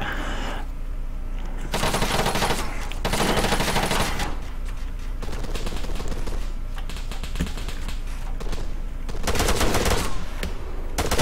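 Gunfire in ARMA 3: repeated rapid bursts of automatic fire, loud and close, separated by brief pauses across the whole stretch.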